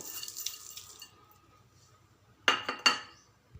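Half a cup of rock salt poured into a cooking pot with oil and tamarind for tomato pickle, heard as a few quick clinking, rattling bursts near the end after a quiet stretch.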